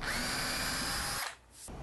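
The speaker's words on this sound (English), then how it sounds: "Now here's the scariest part of the whole project, drilling into the top." A power drill bores into the underside of a walnut table top, its steady whine running loud and close for over a second before cutting off abruptly, followed by quiet.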